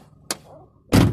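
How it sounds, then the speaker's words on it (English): A single solid thunk of a 2006 Peugeot 107's door shutting, close and loud, after a brief quieter knock and a soft rumble. "let's go ahead and shut the door,"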